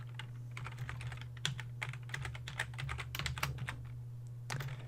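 Rapid clicking keystrokes on a computer keyboard come in uneven bursts and short pauses, close and fairly quiet over a low steady electrical hum, with no voice.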